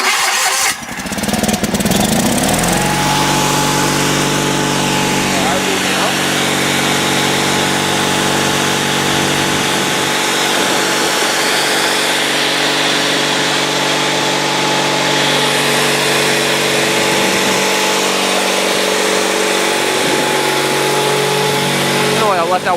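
An Onan 16HP twin-cylinder engine on a Sears Suburban SS16 garden tractor cranks and fires on a cold winter start, then idles loud and steady close by for the rest of the clip.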